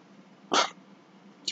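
One short, close burp bursts out abruptly from a person on a live stream, followed a moment later by a faint, brief noise.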